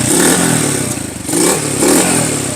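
A vintage Honda XL 100 motorcycle engine runs close by with a loud, even idle, swelling in a couple of gentle revs.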